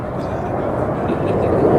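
RAF Red Arrows jets at an air show, a broad roaring jet rush that swells slightly toward the end, with a commentator talking over it.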